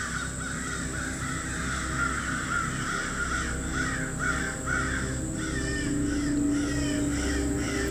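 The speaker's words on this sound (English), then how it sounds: "crows," Several crows caw repeatedly in a fall garden, their harsh calls coming in quick rhythmic bursts over steady outdoor background noise, with no talking.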